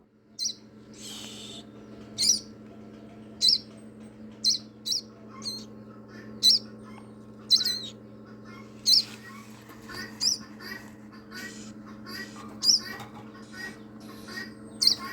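Sparrows kept in a small cage in a home garden give short, sharp chirps at irregular intervals, repeating over a steady low hum in the background.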